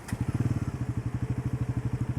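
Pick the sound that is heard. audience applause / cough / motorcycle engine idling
motorcycle engine idling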